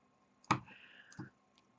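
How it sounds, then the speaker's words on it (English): Cheap household scissors snip through a carved rubber stamp, a sharp close click followed by a brief rasp and a second softer snip, with nothing else heard. "these are just regular household scissors"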